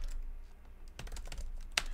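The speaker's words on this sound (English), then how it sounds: "So you can be typing things" Quick clicky keystrokes on a computer keyboard come in short bursts with a sharper tap near the end, close and clear, while searching notes in the Evernote app.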